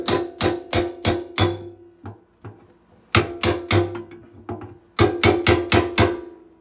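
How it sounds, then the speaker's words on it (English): Metallic hammer strikes on a bolt ring out in rapid bursts of four or five, with short pauses and a couple of lighter taps between groups, during garbage disposal installation. "put something like this, or a bolt or something, and hit it with the hammer"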